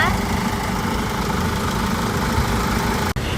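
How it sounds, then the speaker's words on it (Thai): The 2.5-litre diesel engine of a 2014 Hyundai H1 idles steadily nearby with a constant low, knocking rumble, cutting off abruptly near the end. "นี่ค่ะหน้าเครื่องนะคะเครื่องยนต์ดีเซลค่ะ"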